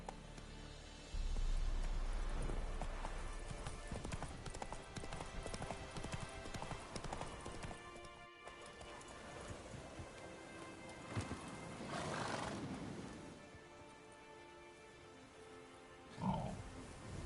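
Roach the horse gallops in The Witcher 3 game, rhythmic hoof clip-clops with a neigh, under loud game effects and music with brief voices.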